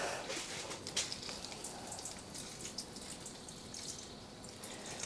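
Water poured over potted Hoya and Philodendron houseplants, a steady close splashing and dripping onto soil and leaves that runs for the whole few seconds, with no one talking.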